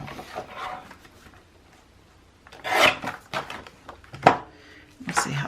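Paper being trimmed for a travel journal cover gives a few short, rasping cuts in separate bursts, close and fairly loud against a quiet background.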